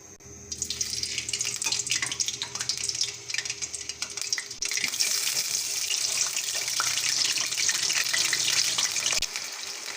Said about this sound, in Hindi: आलू हमारे फ्राई होने लग गए हैं